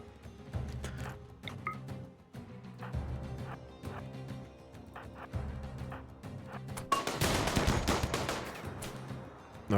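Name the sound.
revolver gunfire in the video game RimWorld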